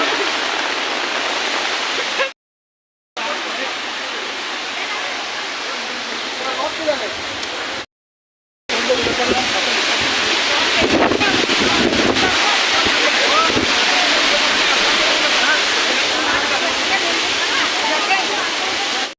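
Chaukul Baba waterfall on the Isapur–Chaukul road pours with a loud, dense, unbroken roar of falling water close by. The roar is cut by two brief drops to silence and grows slightly fuller toward the end.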